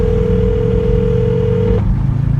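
A steady telephone dial tone sounds continuously for nearly two seconds over a low engine-like rumble, then cuts off as the line connects, without any clear ringing.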